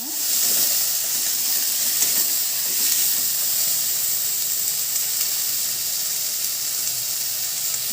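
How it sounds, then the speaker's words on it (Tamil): Eggplant sautéing in a pan for a Tamil pulicha keerai kadaiyal, giving a steady close sizzle and hiss that runs evenly throughout without pauses or talk. "கத்திரிக்காய் ஒரு வதக்கி வதக்கிக்கிறோம்."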